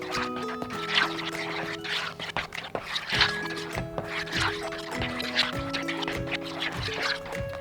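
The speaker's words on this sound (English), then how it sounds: "Mix that up real good." Clam dip is stirred in a bowl, giving soft wet squelches and scrapes with occasional clicks. The mixing sits under steady background music.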